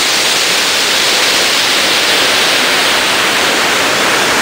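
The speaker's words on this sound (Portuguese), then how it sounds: "Filmando, aproximando da cachoeira." Roar of the Cachoeira do Bandeirante waterfall near the Araguari River headwaters, a loud, steady broadband rush of falling water heard close up with no break.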